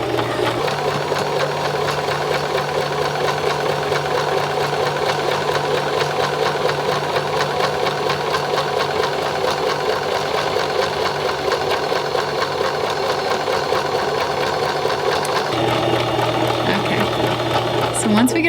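A sewing machine stitches fabric in a steady, continuous mechanical whir that runs nearly throughout, loud and close, with a brief change in pitch near the end as the motor slows.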